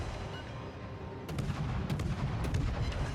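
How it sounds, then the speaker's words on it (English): Battleship gunfire in World of Warships, a run of deep booming shots and cracks, several in quick succession over a constant rumbling background of naval combat. "Panto is looking over here, so we'll see if we actually end up needing to dodge his salvo"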